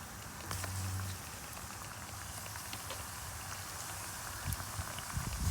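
Turkey gizzards deep frying in hot grease give a steady, close crackling sizzle like light rain, with a few louder pops near the end.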